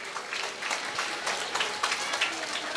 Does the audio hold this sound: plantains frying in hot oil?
no